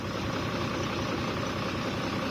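A farm tractor's engine idles steadily at close range, a constant low, rumbling drone with no change in pace and no talk over it.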